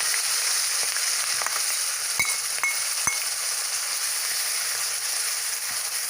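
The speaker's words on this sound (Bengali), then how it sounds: "পেঁয়াজগুলো আমি তেলের মধ্যে দিয়ে দেবো" Ground onion paste fries in oil with a dense, even hiss that holds steady, with a few faint clinks of a utensil against the pan.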